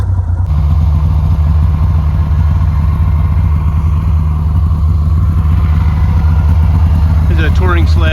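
A touring snowmobile engine runs loud and close, a rough steady clattering drone with a voice talking over it.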